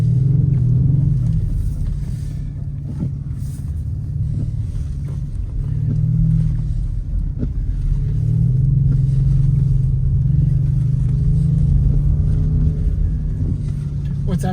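Audi RS6 on a winter driving course, its engine droning low and heavy with swells of throttle that rise and fall in waves, loud and steady from inside the car, with no voices.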